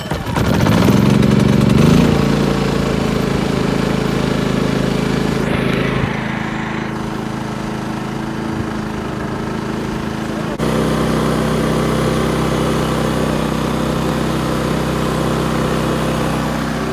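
A gasoline generator runs steadily and loud at a desert cabin site, powering an air conditioner through an extension cord, with a droning engine hum whose pitch shifts slightly partway through.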